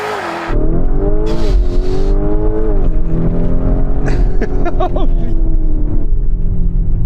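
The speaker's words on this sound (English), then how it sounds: "Here we go with the Lamborghini." Lamborghini Urus accelerating hard, its engine revving up through several rising pulls with gear changes, loud and close from inside the cabin.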